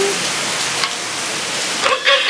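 Heavy rain pours down in a steady, even hiss that fills the whole stretch, with a couple of faint clatters near the end.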